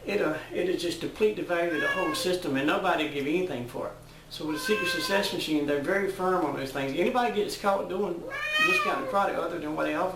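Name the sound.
domestic cat meowing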